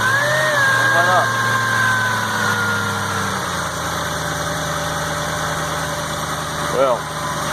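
A rebuilt Ford 5.4 3V V8 in a Lincoln Navigator runs loud and close, its revs easing down from a raised throttle to a steady idle, with faint chirps and whines riding over it.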